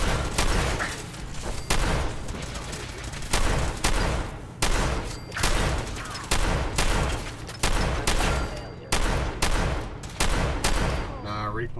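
Shotgun fired repeatedly in a video game, about a dozen loud, sharp blasts at a steady pace, each followed by a brief decay, close and dominant throughout.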